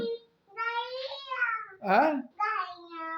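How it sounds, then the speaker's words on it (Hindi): A house cat meows several times indoors at home, the calls rising and falling, clear and close with short pauses between them. "बिल्ली किधर गई है?"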